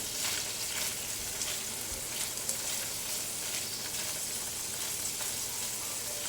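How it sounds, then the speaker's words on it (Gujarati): Pulao ingredients roast in ghee over a medium flame, giving a steady, close sizzle and crackle of frying that runs evenly through the whole stretch, with faint stirring and no voices. "ઘીમાં શેકવાથી એની ફ્લેવર બહુ સરસ આવે છે, એટલે ઘીમાં શેકવાના એને."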